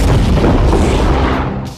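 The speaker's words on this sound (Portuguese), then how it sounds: "A munição foi levada para um lugar seguro e destruída em uma explosão controlada." A controlled explosion destroys a WWII sea mine and releases a loud, deep, rumbling boom. The blast fills the whole two seconds and rolls away slowly with no voices.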